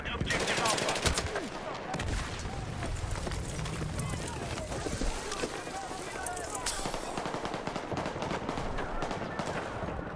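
Gunfire crackles through a military video game battle, scattered rifle and machine-gun bursts mixed with heavy thumps, loud and near, with voices and radio chatter over the shooting.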